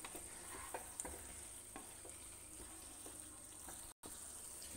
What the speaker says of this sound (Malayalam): അതൊന്ന് ഒരുപോലെ എല്ലായിടത്തും ഇളക്കി യോജിപ്പിച്ച് കൊടുക്കുക